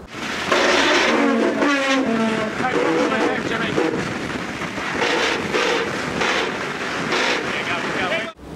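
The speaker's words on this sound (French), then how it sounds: "écoutez les bruits à bord, ce que ça donne quand on choque des tonnes sur les winches" Loud grinding, ratcheting whine from winches easing tons of load aboard an America's Cup racing catamaran, mixed with rushing wind and water noise throughout.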